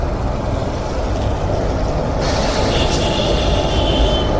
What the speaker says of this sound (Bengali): একটা তোমার ট্রেন আসছে, দেখা যাক এটা কি ট্রেন